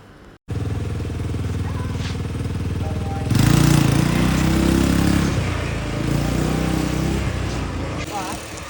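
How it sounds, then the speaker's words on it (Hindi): Small off-road ATV engine at an adventure resort in Lonavala, a steady close motor drone that idles briefly, then grows louder and rougher as it revs and pulls away, holding a strong continuous growl to the end. "उसके बाद हम गए एटीवी राइड के लिए"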